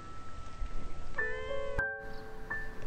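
A small stray kitten in roadside bushes gives several thin, high meows in close succession, fairly faint over quiet outdoor background noise.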